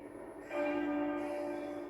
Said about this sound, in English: As the bells rang inside the Commons